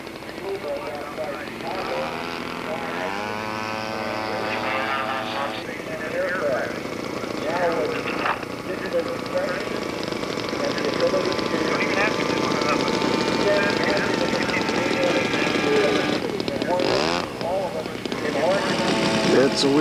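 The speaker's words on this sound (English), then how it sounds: "a big airplane needs a big engine, and this one's powered by a Quadra" A vintage model airplane powered by a Quadra engine drones steadily at a model airplane contest, its buzzing motor continuous and fairly loud while an announcer talks over it.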